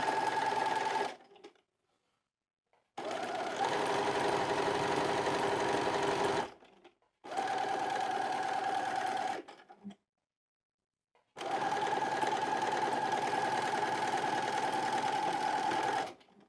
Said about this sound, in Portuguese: costurei a minha costurinha de lateral